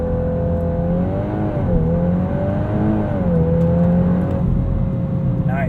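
A 2022 Volkswagen Golf R with DSG gearbox builds revs for a launch control start in race mode, giving a steady held engine note that wavers and climbs with a smooth whirring tone.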